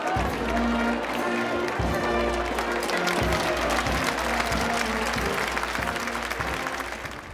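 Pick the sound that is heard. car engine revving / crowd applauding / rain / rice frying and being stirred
crowd applauding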